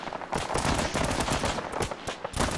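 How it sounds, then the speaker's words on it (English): Mortar and gunfire in a military video game on Tanoa, dense rapid bursts of gunshots and blasts crackling close and loud throughout the short stretch. "It sounded like mortar contact fire."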